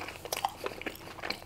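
Tortilla chips crunched while eating at a taco and burrito meal, with a quick run of close, crisp bites and chewing crunches over about a second and a half.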